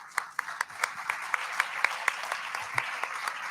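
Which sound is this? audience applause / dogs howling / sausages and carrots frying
audience applause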